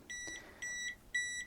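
A Kaiweets HT206D clamp meter's magnetic field alarm gives three evenly spaced, clear electronic beeps, each lasting about a third of a second, heard up close in a quiet room.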